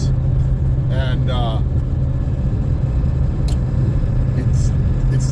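Pickup truck engine running through a 4-inch exhaust with a muffler: steady, deep low rumble heard from inside the cab, continuous and fairly loud, with brief chirpy sounds early on.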